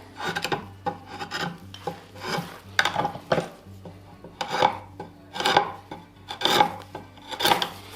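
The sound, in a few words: drawknife cutting a wooden tenon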